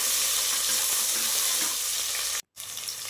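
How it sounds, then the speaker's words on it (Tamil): Sliced onions frying in oil inside a pressure cooker, giving a loud, steady hiss and crackle that cuts out abruptly for a moment near the end. "நீல வாக்கில் கட் பண்ண மூணு பெரிய வெங்காயம் நான் அரிஞ்சு வச்சுருக்கேங்க அதை போட்டுக்கலாம்"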